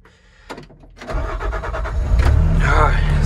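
Rented machine's engine cranks and catches after a short starter whir, then rises into a rough, close idle, with a voice talking over the start.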